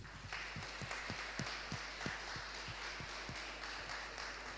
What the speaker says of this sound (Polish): bijemy my teraz dla was wielkie brawa